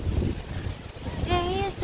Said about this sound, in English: Very windy, everyone.